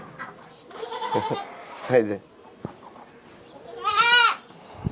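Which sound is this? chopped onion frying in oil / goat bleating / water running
goat bleating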